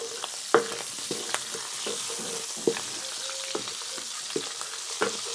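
Garlic frying in a pan at home, a steady sizzle punctuated by sharp clanks and scrapes of a utensil against the pan at irregular intervals, close and fairly loud, without speech.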